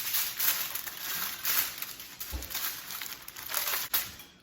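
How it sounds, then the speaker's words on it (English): Aluminum foil is spread over venison on a cutting board and crinkles loudly and continuously up close, with a few sharper crackles and no voices. "And we want to just get it covered with some foil."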